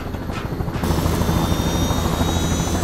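Helicopter rotor and engine roar carrying a gang of bandits with stolen money in a heist film, loud and steady throughout with a rhythmic low chop.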